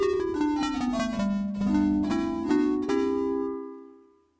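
Major scale played on a bright, bell-like synth tone tuned to 26 equal divisions of the octave: a run of separate notes that rises and then falls, played cleanly with no other sound, ending on a note that fades out.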